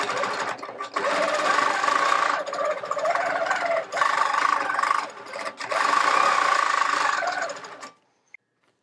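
Steady, fast mechanical whirring of a quilting machine stitching after its thread tension was raised from 17 to 22, running in long continuous passes with brief pauses before stopping abruptly.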